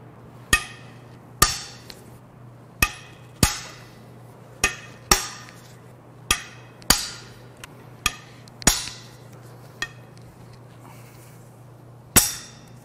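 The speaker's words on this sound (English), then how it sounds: "Now we can crack these head bolts loose." Head bolts on a Jaguar Land Rover 5.0L supercharged AJ V8 cracking loose one after another, a dozen or so sharp, loud metallic snaps at irregular intervals over a steady low hum, with no talking.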